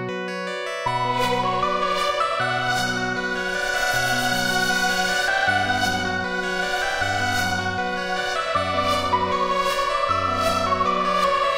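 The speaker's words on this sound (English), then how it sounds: "I'm gonna just turn on the DX7 and it sounds like this." A Yamaha DX7 synthesizer plays a ramping lead line over a repeating bass pattern, with bright bell-like tones and regular rhythmic pulses, loud and continuous without talk.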